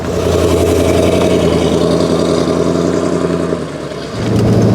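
A Corvette C3's big American V8 runs with a deep, steady mid-pitched rumble at a sustained throttle, dipping briefly before rising again near the end, loud and close with no voices.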